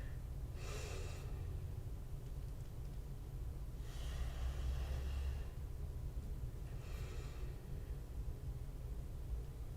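Three slow, audible exhalations spaced a few seconds apart during a yoga class, soft breathy whooshes over a steady low background rumble.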